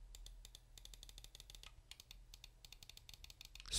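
Side buttons on a Delux M800 Ultra gaming mouse, a lightweight Razer Viper Mini–style clone, click in quick close succession, a steady run of sharp crisp taps.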